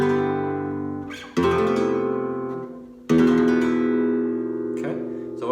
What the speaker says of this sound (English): we're going to do a version of an Andalucian cadence, but a more dissonant sounding version.